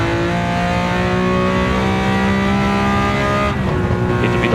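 A Walter Wolf Special Lamborghini Countach 500S V12 race car roars loud and close from onboard, engine note sustained then dropping sharply as it brakes and downshifts.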